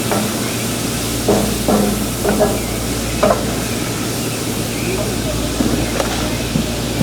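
Spam fried rice with peas and carrots sizzling and crackling in a hot pan with stirring scrapes, close and continuous, while a person talks over it.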